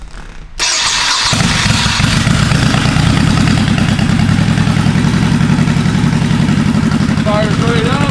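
A carbureted 2002 Honda Shadow motorcycle engine cranks and fires up close by, then settles into a steady, loud, throbbing idle that runs through to the end.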